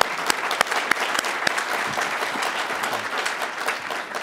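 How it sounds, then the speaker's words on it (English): An audience claps for the Chicago city treasurer, with brisk, crisp applause close to the listener. A few sharp individual claps stand out at the start before the sound settles into an even wash that tapers slightly at the end. "let's give him a round of applause"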